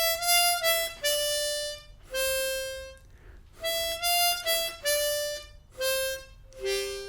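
A harmonica plays a melody in a choppy, disconnected beginner style, with short breathy notes separated by gaps, close and moderately loud.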